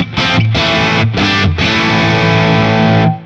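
Electric guitar played through a Colombo Audio Plexi Breed overdrive/distortion pedal voiced like a 1987 50-watt Plexi, giving loud, thick distorted chords with a fast attack, struck three times and then left ringing before being cut off.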